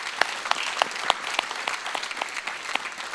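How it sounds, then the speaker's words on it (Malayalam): Audience applause for a young singer named Amani at a Mappilappattu song performance, a lively burst of many hands clapping close by, steady and dense without voices. "ആദ്യം നമുക്ക് എല്ലാവർക്കും ചേർന്ന് അമാനിക്കുട്ടിക്ക് ഒരു തകർപ്പൻ കയ്യടി നമുക്ക് കൊടുക്കാം"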